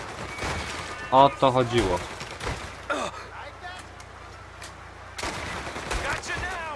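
Shotgun and gunfire blasts in the Mafia video game on a farm level, a few sharp bursts amid game sounds, with someone speaking over them.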